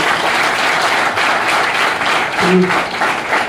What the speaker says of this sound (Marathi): हे सगळ्यांनी टाळ्या वाजवल्या म्हणजे आता बस झालं